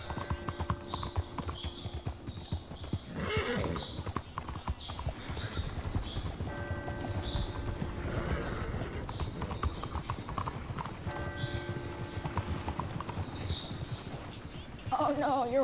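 Horse hooves clip-clop steadily in the video game Red Dead Redemption 2, with an occasional whinny and game music tones over a continuous background, while players talk now and then.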